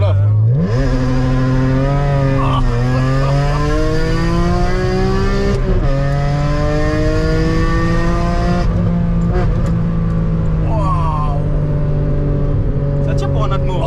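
A BMW E46 316 Ti with a swapped M3 engine pulls hard through the gears, its loud engine note climbing in pitch with each gear and briefly dropping at shifts, heard from inside the car while people talk over it.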